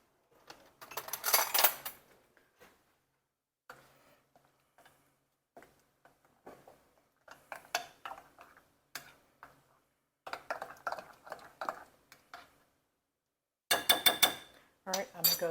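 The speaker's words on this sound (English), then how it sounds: "All right, I'm going to give this a stir." Homemade roasted salsa with added sugar and cumin being stirred by hand: scattered light clicks and spoon taps in short bursts, separated by near silence, close and fairly quiet.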